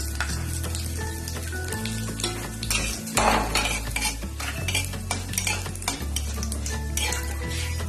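Bay leaf, dried chilli and cumin sizzle in hot oil in a kadai, a bright crackling hiss with frequent scraping and clinking of a spoon against the pan, over a low steady hum.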